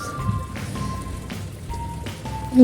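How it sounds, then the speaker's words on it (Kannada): Steady, continuous rain patters softly on surfaces outside a house with water pooled in front, a continuous light hiss with faint drips, interrupted by a short tonal beep here and there. "ನೋಡಿ ಮಳೆ ಸುರಿದು ಫುಲ್ ನೀರು ತುಂಬೋಗ್ಬಿಟ್ಟಿದೆ ಮನೆ ಮುಂದೆ, ಯಾಕಂದರೆ ಕಂಟಿನ್ಯೂಸ್ ಮಳೆ"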